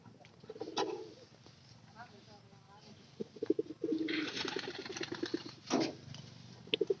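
Domestic pigeons in a backyard loft coo in low, rolling bursts at close range, with a person talking intermittently between the calls.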